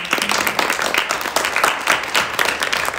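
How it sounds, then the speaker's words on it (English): Audience applause at a concert, a steady wash of many hands clapping close by and filling the moment with dense, even patter. "Please give a big round of applause for her."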